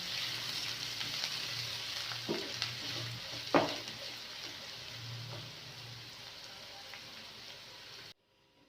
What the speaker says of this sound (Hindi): हमें थोड़ा सा इसे फ्राई करना है, प्याज को और सब्ज़ मिर्चों को।